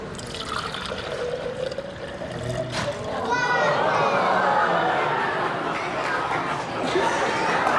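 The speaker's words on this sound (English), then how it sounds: "what happens if I pour water into the cylinder?" Water is poured into a cylinder as a steady, splashing pour that swells partway through, with children talking and chattering around it.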